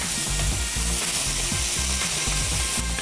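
Button mushrooms frying in a hot pan give a loud, continuous sizzle and crackle with faint stirring scrapes, close and steady throughout.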